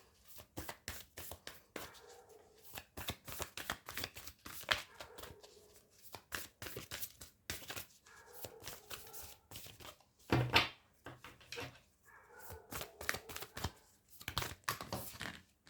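Tarot cards shuffled by hand, with rapid crisp riffling and slapping bursts in irregular clusters, close and fairly loud, and a sharper snap partway through as a card flies out.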